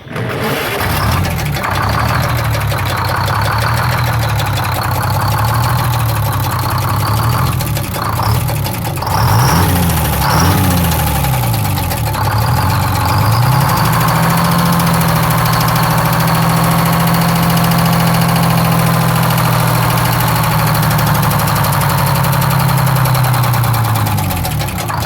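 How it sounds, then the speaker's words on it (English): A Detroit Diesel 671 engine starts and runs loud and close, a bent fan blade kicking against the fan in a repeated knock over the steady diesel drone and whir. "Just listen to this sweet sounding engine."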